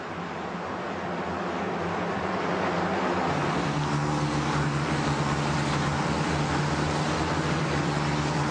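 GP3 racing cars from the 2010 season at the Turkey race howl past, a continuous, loud, droning engine roar that builds slightly and holds steady with no voices.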